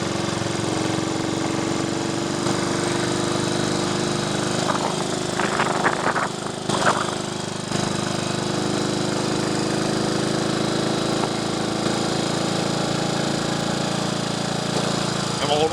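A 1958 Triumph Tiger Cub motorcycle engine runs steadily at close range, a loud continuous buzzing drone with a few brief rattling clatters partway through.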